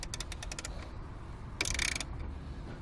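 A ratchet tightens the alternator belt adjuster on a 1997 Subaru during a power steering and alternator belt change: a quick run of sharp metallic clicks, then a short denser burst of ratcheting, close up with no talk.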